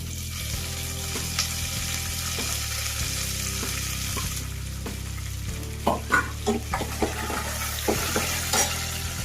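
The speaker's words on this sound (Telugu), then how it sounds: "పల్లీలు ఇలా సౌండ్ వస్తున్నాయి చూడండి" Peanuts fry in a pan for a raw-mango pulihora pulusu, with a continuous close crackle and sizzle as they are stirred, and several clattering scrapes of the spatula toward the end.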